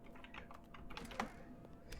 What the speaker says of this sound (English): whenever you press the button to open or whatever, it just typing sounds